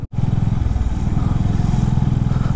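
A motorcycle engine thrums steadily and close while riding a mountain road on a Spiti trip, with a low, even throb and wind rush and no talk.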